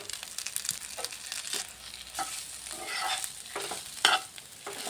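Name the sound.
stirring grated potatoes with turmeric, chilli and cumin powder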